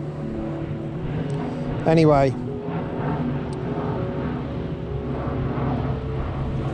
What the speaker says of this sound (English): Here comes the plane. Every time I go to speak, there comes a plane over.